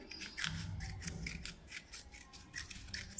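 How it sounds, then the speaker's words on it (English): Scissors cut through paper while an envelope is being made, a series of close, crisp snips and rustles repeating in an uneven rhythm, quiet and with no talking. "So cut out that one."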